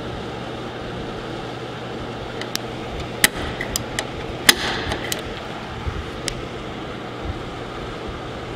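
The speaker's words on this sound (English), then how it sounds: "I'm gonna take my center punch. I'm gonna put it right on the end of that line." Center punch struck with a hammer on an aircraft flaperon part clamped down in a workshop, giving several sharp metallic taps spread over a few seconds over a steady background hum.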